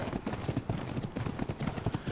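Hooves of a level-55 female horse being ridden in the game Ark Survival Evolved, a quick, steady clip-clop rhythm, close and continuous with no voices.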